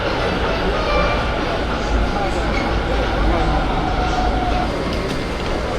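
A high-speed train at Taipei Main Station gives a low, continuous rumble with rail noise underneath. It runs steady through the whole stretch under a busy carriage ambience, and voices talk over it.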